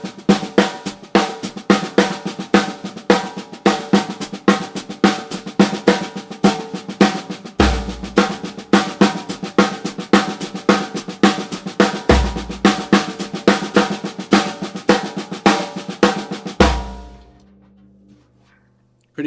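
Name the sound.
drums playing paradiddle pairings of 4s and 2s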